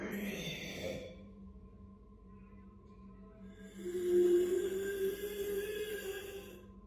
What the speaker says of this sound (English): A horrific noise that sounds like raspy breathing and moaning can be heard coming from somewhere in Francesco's house.